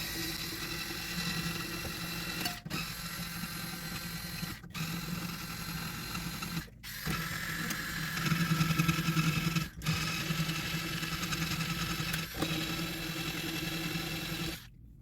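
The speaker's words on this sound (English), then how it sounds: "I'm going to get these old strings off, so I'm just going to loosen them up at the headstock here" Electric string winder loosening the old strings on a Les Paul guitar headstock, a close whirring motor buzz in several bursts separated by brief pauses as it moves from peg to peg.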